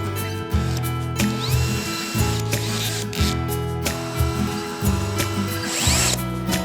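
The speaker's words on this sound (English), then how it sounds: "I'm gonna put Mother's on this one and get down there and spin this guy on the surface of the valve." A drill spins a polishing bit loaded with Mother's polish against a carburetor valve surface, whirring in repeated close bursts with short pauses and grinding, rubbing tones over a low motor hum.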